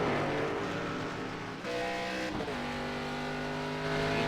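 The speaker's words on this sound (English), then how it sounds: "E2 is also downshifting." Race car in an iRacing oval race at Richmond, a steady loud engine drone that dips and shifts pitch as it downshifts, with other car engines blending underneath.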